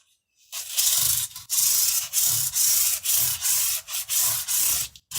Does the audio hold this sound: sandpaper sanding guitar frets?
yes